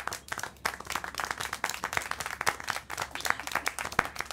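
Clapping in the video game Syberia: The World Before, a brisk run of distinct, close hand claps in an irregular rhythm, sharp and fairly loud, with no speech over it.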